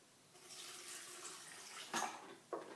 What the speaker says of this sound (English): I'm just going to add a good glug of filtered water.